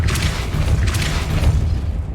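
The Depulso spell in the video game Hogwarts Legacy goes off as a loud, dull blast with a rumbling, roaring body that holds steady for about two seconds.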